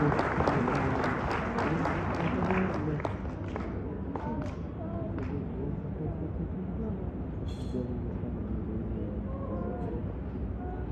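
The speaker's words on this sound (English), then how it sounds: "Let's give her a round of applause." Audience applause at a sixth grade promotion rises loudly at first and then settles into steady clapping that continues throughout, with a murmuring crowd underneath.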